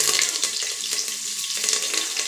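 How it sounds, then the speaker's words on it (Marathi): Onion and curry leaves dropped into hot oil, giving a loud, dense sizzle and crackle that runs continuously, close up, with light stirring clicks throughout. "मी आता याच्यात हा कांदा टाकून देते आणि हे बघा कढीपत्ता बी टाकते"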